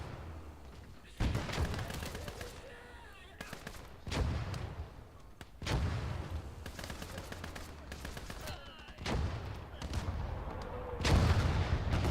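Tank turret machine guns firing in the video game MACE, with repeated loud bursts of rapid automatic fire and heavy booms coming in clustered waves over continuous battle noise.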